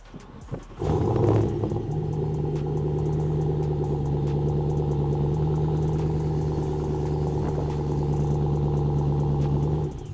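A supercharged Chrysler 300C with a 3-inch catless X-pipe exhaust cranks and fires up, then settles into a steady, loud, rumbling idle close by with a faint clattery texture, with the check engine light on.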